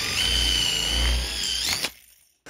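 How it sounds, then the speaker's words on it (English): A power drill bores into the edges of wooden drawer sides, fitting pins for concealed drawer slides: a steady, close, high-pitched motor whine with grinding for nearly two seconds, then it spins down and stops. "The pinnets simply drill into the edges of the sides"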